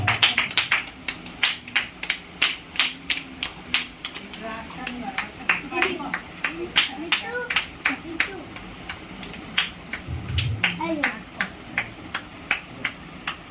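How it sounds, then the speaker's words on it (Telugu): A church congregation clapping in a service, a long run of sharp, evenly spaced claps in a steady rhythm, with a voice speaking under the clapping. "గట్టిగా చప్పట్లు కొడదాం"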